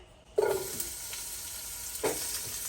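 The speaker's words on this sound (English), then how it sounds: "In a large pot, add 1 tablespoon olive oil. Saute the onion." Onion sautéing in olive oil in a large pot, a soft steady sizzle with brief louder bursts of stirring and scraping near the start and again near the end.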